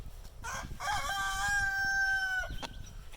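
A rooster in a garden gives one loud, close crow that rises and holds before breaking off, with faint clucks and rustling around it.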